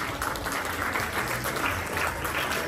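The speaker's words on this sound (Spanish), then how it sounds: "Zapatillas, fuerte de aplauso" A crowd applauds the father at a quinceañera reception, with steady, dense clapping that carries on unbroken at moderate loudness.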